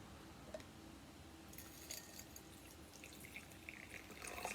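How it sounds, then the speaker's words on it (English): Liquid poured into a jar for a hot and cold water experiment, heard as a soft, faint trickle and drip of water, steady throughout and slightly louder near the end. "I'm going to pour the liquid into my jar."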